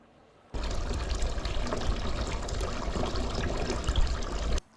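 Water gushing steadily from newly installed bathroom hot water fittings, a strong continuous pour that starts abruptly and stops cleanly after about four seconds.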